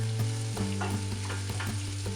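Onions sweating in a frying pan over medium to medium-high heat, sizzling steadily up close with repeated scraping stirs.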